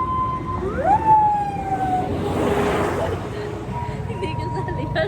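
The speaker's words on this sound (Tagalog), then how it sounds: "May ambulansya." An emergency siren wails nearby, rising and sweeping in loud tones before it fades out as the vehicle passes. Someone speaks over the siren and under it.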